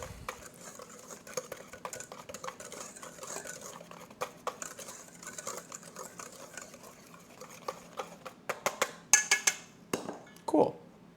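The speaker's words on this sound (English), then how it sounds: "I'll actually grab our whisk and I'll whisk these together just to kind of mix it up" Whisk stirring dry pancake ingredients for bacon pancakes in a bowl, giving rapid steady scraping and light tapping against the bowl, ending with a few louder clinks of metal on the rim.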